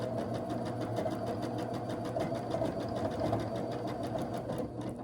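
A sewing machine stitches a quilt block in a steady, continuous run, its rapid mechanical whir close and even for the whole stretch with no talking.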